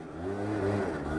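Yamaha BWS 50 scooter engine revving on a ride, a short mid-pitched buzzing rev that rises and holds, close and fairly loud.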